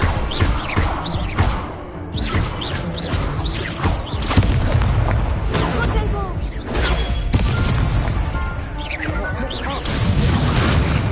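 Incendio spell casting in Hogwarts Legacy on PS5, repeated booming fiery bursts and thuds with whooshing magical sweeps, mixed with game sound effects and talk throughout.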